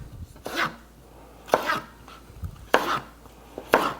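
A knife dices Roma tomatoes on a cutting board, four sharp, separated chops spaced about a second apart, close and clear with no talking.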